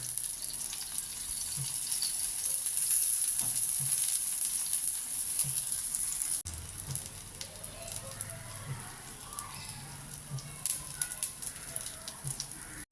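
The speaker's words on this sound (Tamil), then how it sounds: "எண்ணெய் ஊற்றினா நல்லா எண்ணெய் முறுமுறுன்னு வரும் நல்லா." Vegetable adai, a traditional spicy lentil pancake, sizzles in oil on a pan: a steady hiss that is louder in the first half and then settles to a softer crackle with scattered pops. No voices are heard.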